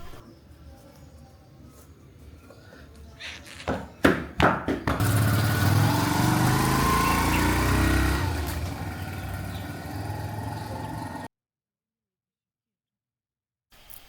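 A few thumps, then a motorcycle engine starts and runs loudly for several seconds before cutting off abruptly into silence.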